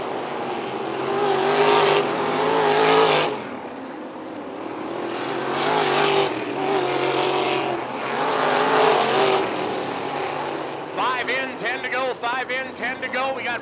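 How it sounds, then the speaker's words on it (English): Wingless sprint cars race around a track in a feature event, engines swelling loud and fading as they pass in repeated waves, with an announcer talking over the roar throughout. "Taylor Dawson out of Burlington in car number 9 finds himself in fourth"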